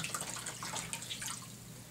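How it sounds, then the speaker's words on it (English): Water drips and trickles as a wet ShamWow cloth is wrung out, a soft patter of droplets close by against a low background hum. "you get the ShamWow wet, wring it out, and it picks up virtually every bit of the water"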